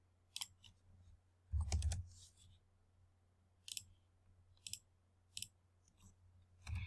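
Sharp, isolated clicks from a computer mouse as CAD sketch lines and endpoints are selected, quiet and close, spaced irregularly with a low hum underneath.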